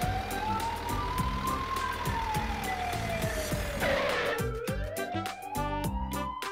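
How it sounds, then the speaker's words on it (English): An ambulance siren wails in slow rising and falling sweeps, loud and close, over a bouncy background tune. "It's an ambulance."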